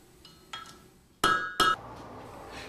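A blacksmith shapes a metal chain link over the horn of an anvil: one lighter tap, then two loud, close, ringing hammer strikes in quick succession.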